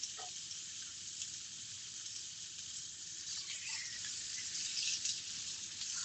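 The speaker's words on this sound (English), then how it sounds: "I sear the fish." Fish searing in a hot pan gives off a soft, steady sizzle and hiss with faint crackles, at low volume and with no talking.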